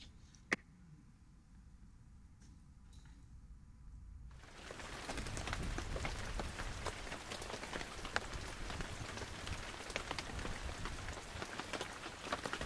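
Quiet at first with a single sharp click, then steady rain starts abruptly and keeps falling heavily, pattering on a surface aboard a boat.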